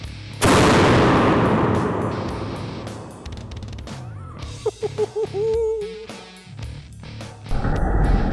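A homemade explosive-stone cannon fires one loud, sharp boom that decays over a few seconds, followed by quieter rattling and a whistling hiss as gas escapes.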